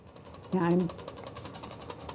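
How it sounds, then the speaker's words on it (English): A boil alert disc rattles quickly and steadily in a pot of boiling water before fresh fettuccine goes in, a close buzzing chatter, with a short voice burst over it. "now I hear that the boil alert is rattling"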